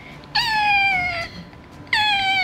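A woman imitates a black cat with two drawn-out, close meows separated by a short pause, over a faint noisy room background.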